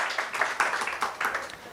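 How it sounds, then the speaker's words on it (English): An audience claps for the parents at a celebration speech, a short burst of scattered, moderately loud hand claps with an uneven rhythm and no talking. "let's echo that clap for the parents"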